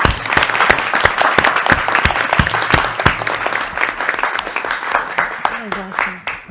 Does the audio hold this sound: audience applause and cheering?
yes